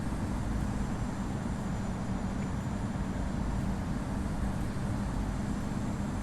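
An A321-200 airliner's engines drone steadily through a climb in the Infinite Flight game, a dense, continuous roar with no breaks and no talk over it.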